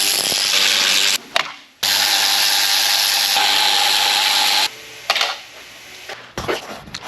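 A 10 mm socket ratchet working on bolts of a B6 Audi S4 during a radiator install, heard as long sustained grinding, rubbing noise in two or three close, loud stretches broken by brief clicks and clatters.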